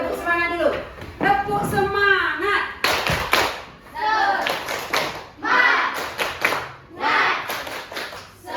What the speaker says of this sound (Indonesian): Oke, kita tepuk semangat dulu.